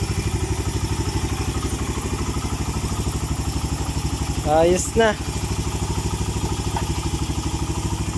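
A Suzuki GS motorcycle engine, converted from 125 to 150, idles steadily with a close, even thumping rhythm throughout, while someone speaks briefly over it.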